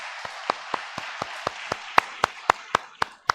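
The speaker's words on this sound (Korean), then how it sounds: "다시 한번 하나님께 영광의 박수 올려드리겠습니다" A church congregation claps for a Sunday worship service in a sparse, evenly spaced rhythm. The sharp, steady claps ring clearly over a faint room hum, with no voices.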